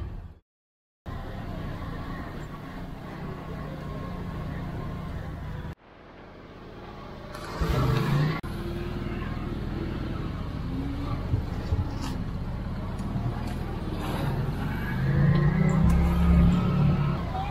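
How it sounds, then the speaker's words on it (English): A tuk-tuk rumbles along a road in the Colombian countryside near Santa Fe de Antioquia, its small engine droning steadily with wind and passing traffic noise, a few bumps and rattles along the way. "I found my tuk-tuk, and we're en route with my driver, Nepo."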